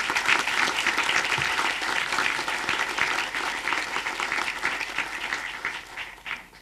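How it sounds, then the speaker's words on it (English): Steady, dense applause from a seated audience fills a college Charter Day honors ceremony, sustained throughout and tapering slightly toward the end. "Give them a round of applause."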